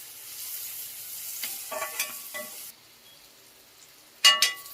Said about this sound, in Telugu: మాడకుండా ఫ్రై చేస్తూనే ఉండాలి.